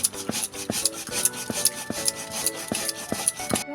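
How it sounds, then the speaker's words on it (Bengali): Spices such as cashews, melon seeds, poppy seeds, mustard, cumin and cardamom are ground on a stone slab. Rhythmic rasping strokes repeat steadily and close by, about two or three per second. "তবে আমি এইটা এখন সিলেটে বেটে নেব।"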